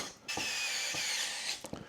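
A lightweight cordless screwdriver whirs steadily for about a second, starting and stopping with brief clicks while installing a front windshield on a Polaris Ranger, close and fairly loud, with no talking.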